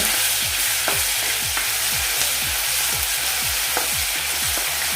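Okra for a bhendi masala sizzling in hot oil while a spoon stirs it, steady frying hiss throughout with regular scraping stirs about every half second, close and moderately loud.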